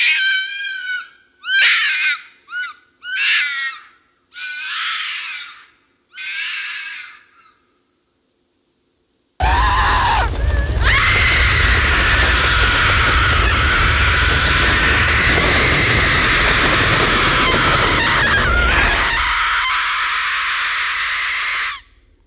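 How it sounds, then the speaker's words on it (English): A fox screams on a trail camera recording, first as a series of short, sharp shrieks separated by silence, then as a loud, sustained wailing scream held for about ten seconds before it cuts off. "of a fox scream."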